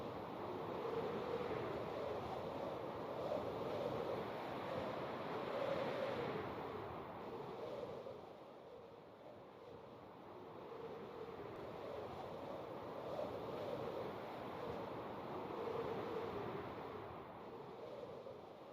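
Continuous water rushing and washing in a Minecraft river near an ocean, a broad steady wash that swells and eases slightly over the stretch, with no talk.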